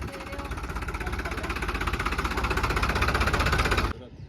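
A tractor engine runs close by with a steady, rapid chugging pulse as the tractor drives slowly in circles, swelling slightly in loudness before cutting off abruptly near the end.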